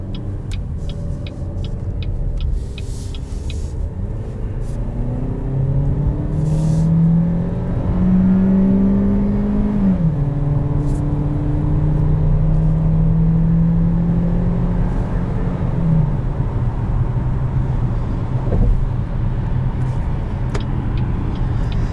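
A 2021 Buick Encore with its 1.4-liter engine driving, heard from inside as a steady low cabin drone with road noise and a rising, then settling engine hum as it accelerates.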